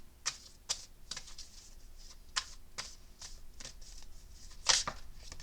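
A deck of cards riffled and shuffled in quick, crisp bursts, several rapid flutters close by in a quiet room.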